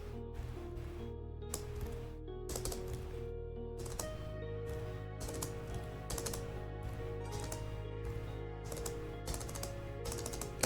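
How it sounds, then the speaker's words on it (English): Rapid keyboard typing in an Ultima IV speedrun at a carnival-edition event, bursts of clicky keystrokes in quick runs over a steady low game music hum, close and clear. "So when I'm typing the mantra, I actually have to type it in."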